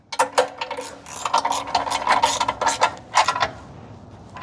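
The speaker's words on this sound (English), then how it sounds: "Now I'm just going to tighten these rear U-bolts up to snug." A hand ratchet snugs the rear U-bolts on a vehicle, making quick bursts of close, crisp clicking in short strokes separated by brief pauses.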